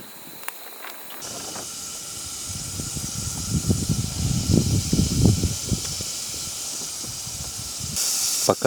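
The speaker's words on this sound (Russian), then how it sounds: "Пока сковородочка греется, сальцушечку туда забросим." Salted pork fat (salo) sizzles in a frying pan at a riverside forest campfire kitchen, a steady loud hiss with dense crackling pops swelling through the middle and no talk.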